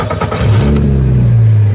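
A Donkervoort D8 GTO 40 sports car engine catching on the starter, a brief cranking chatter rising into a loud, close, steady idle rumble.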